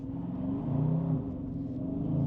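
A 2026 Dodge Charger Sixpack, replacing the 6.4 V8, accelerating from inside the cabin: a loud, steady low engine drone and rumble that rises slightly in pitch, continuous throughout.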